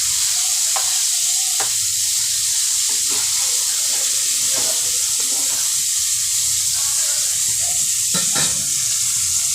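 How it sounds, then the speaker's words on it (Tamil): Vella vavval (white pomfret) fish sizzling steadily in a frying pan, with a few sharp scrapes and clatters of the spatula as the fish is turned over, close and fairly loud. "மீனை ஒரு பக்கம் வெந்துடுச்சு, இன்னொரு பக்கம் திருப்பி போடுறோம்."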